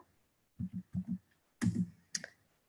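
Typing on a computer keyboard in a quiet room: a few short bursts of clicky keystrokes, paired taps then two louder clusters, close and alone.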